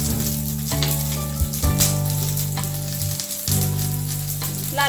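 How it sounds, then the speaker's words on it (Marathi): Onions fry in hot oil in a pan for a Kolhapuri mutton tambda rassa, a steady loud sizzle with occasional stirring scrapes and brief dips, no voices. "एका पॅन मध्ये तेल गरम करून घ्यायचे आहे आणि त्यामध्ये कांदा भाजून घ्यायचा।"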